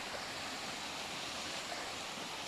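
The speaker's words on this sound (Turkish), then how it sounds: "Böyle şelaleyi görüyorsunuz." Waterfall near Işıklı village in Türkeli, Sinop, roaring steadily as a dense, continuous broadband wash of falling water, close and unbroken, with no voices over it.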